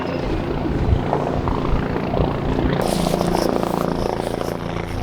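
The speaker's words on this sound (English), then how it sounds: "a chopper arriving" A medical helicopter arrives in a 30-mile-an-hour West Texas wind, its rotor throbbing in a steady close drone mixed with blustery wind noise, growing brighter partway through.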